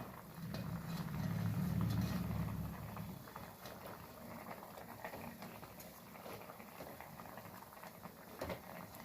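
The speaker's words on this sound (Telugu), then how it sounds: "పులుసు మరిగేస్తుందండి" Andhra-style brinjal and fish curry broth bubbling in a pot, a steady soft boiling hiss with light popping, louder at first and then settling into a quieter simmer.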